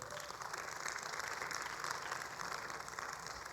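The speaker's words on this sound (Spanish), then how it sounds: "Denle un aplauso al Señor." Congregation applauding during a church sermon, a sustained, even roar of many hands clapping, heard from some distance and fairly faint.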